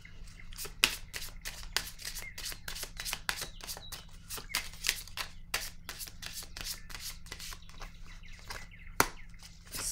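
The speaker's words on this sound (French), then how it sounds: "Je vais piger une autre carte." Tarot cards being shuffled by hand, a rapid series of crisp riffling flicks and soft slaps that come close and clear in quick, slightly uneven bursts over a quiet room.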